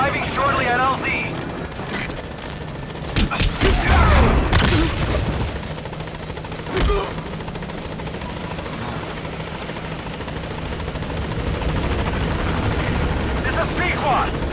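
Helicopter rotor drone runs steadily throughout as the aircraft arrives at a landing zone in Metal Gear Solid V, with a brief burst of gunfire-like cracks midway and radio-style voices talking over it.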